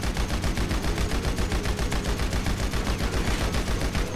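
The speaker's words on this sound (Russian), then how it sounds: "Я вот сейчас по людям стреляю внизу. С пулемета нормально?" Sustained machine gun fire in GTA Online, aimed at people below: a loud, steady stream of rapid, evenly spaced shots running unbroken throughout, with no voices.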